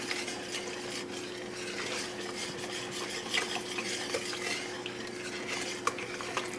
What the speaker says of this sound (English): I'm going to go in with our whisk. I'm going to just start to break that up.